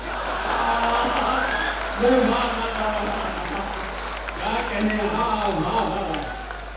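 Applause from the crowd at a Hindi poetry recital during a mushaira gathering, steady clapping spread across the hall with a brief swell, while a voice carries on speaking over it.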